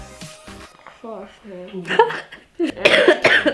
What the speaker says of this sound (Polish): mnie jeszcze kaszel męczy na maksa